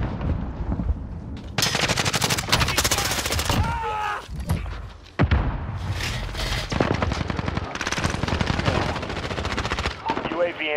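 Heavy bursts of automatic gunfire in a military shooter game, rapid repeated shots in loud clusters with brief pauses, mixed with explosions and occasional radio-style voices underneath.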